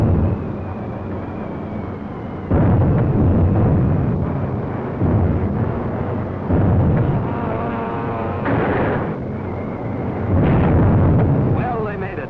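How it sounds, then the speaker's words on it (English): Bursts of 600-pound TNT bombs going off in a wartime bombing raid, five or six loud heavy booms in succession, each rumbling for a second or two, with a dense low roar in between. "With those 600-pounders of TNT blowing up right in Hirohito's face"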